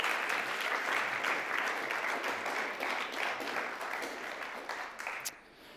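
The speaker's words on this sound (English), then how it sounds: "Round of applause for the whole cohort." A crowd at a Year 12 graduation ceremony applauds with dense, steady clapping that gradually thins and fades near the end.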